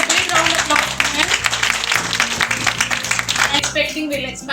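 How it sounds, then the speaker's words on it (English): A crowd at a business meet gives a round of applause, continuous dense clapping over steady background music, with the clapping thinning out toward the end. "So all of you should give a big round of applause."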